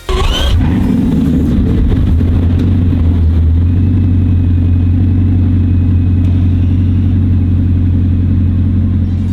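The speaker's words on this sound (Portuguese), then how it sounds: "Debaixo do capô, pulsa um dos motores mais impressionantes já instalados em um automóvel de produção, o W16 de 8 litros e 4 turbocompressores" An 8-litre quad-turbo W16 car engine with six exhaust outlets roars up sharply, then holds a loud, deep, steady rumble close by throughout, with no voices.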